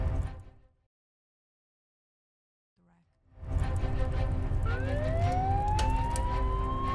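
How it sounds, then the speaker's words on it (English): Police car and ambulance sirens wail in from near silence, rising tones sweeping upward over a loud rumble of traffic and engines, close and dominant after a quiet pause. "Police cars and ambulances arrived within minutes, their sirens wailing a mournful song."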